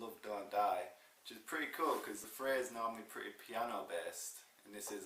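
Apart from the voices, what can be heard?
No everyday noises stand out.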